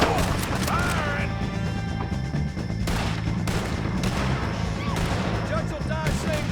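Gunfire in the video game Red Dead Redemption 2, loud repeated shots and crashing impacts over a dense, continuous battle din with shouting voices.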